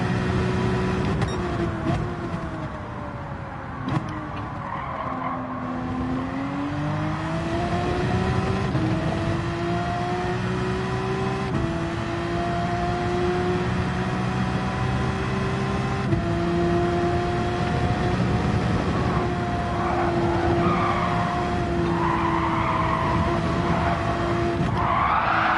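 A Porsche driven in Gran Turismo 7 on a seaside race track, its engine droning continuously with gliding pitch shifts as it revs and the tyres squeal and skid through corners, loud and close without talk.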